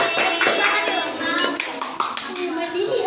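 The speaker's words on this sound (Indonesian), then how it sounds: "Tepuk tangan, tepuk tangan." Audience at a talk clapping in a burst of scattered handclaps, with children's voices chattering over the clapping.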